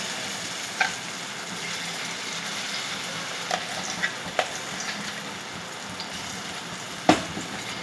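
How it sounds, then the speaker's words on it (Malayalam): Mashed boiled plantain being sautéed in a pan for a plantain payasam, a steady soft frying sizzle with occasional sharp scrapes and knocks of the spoon against the pan. "ഏത്തയ്ക്ക പുഴുങ്ങി ഞാൻ അരച്ച് അതിൻ്റെ കുരുവൊക്കെ കളഞ്ഞ് ഇനി ഇത് നമുക്ക് ഇതിനകത്തിട്ട് വരട്ടാം"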